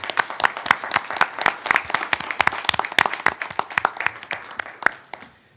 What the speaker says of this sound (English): just maybe a small round of applause for them as well